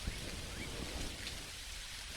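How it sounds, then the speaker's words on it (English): Steady rain in the farming game Dinkum, a dense, even wash of patter filling the background at low level throughout, with no talking. "That's rain, clover."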